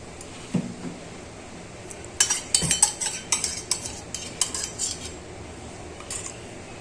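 Spoon or whisk stirring pizza dough ingredients (sugar, yeast and oil) in a bowl, giving a run of close, irregular clinks and scrapes against the bowl that start after a quiet moment and continue to the end, with no talk.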